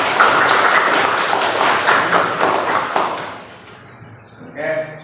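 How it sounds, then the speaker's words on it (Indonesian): A classroom of students clapping together during a lesson, a dense burst of applause for about three seconds that fades out, followed by a brief voice. "Tepuk tangan."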